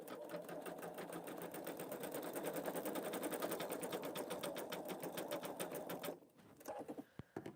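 A Pfaff Creative Vision embroidery machine stitches steadily at close range, a fast even needle rhythm running for about six seconds before stopping, followed by a few faint clicks and handling noises.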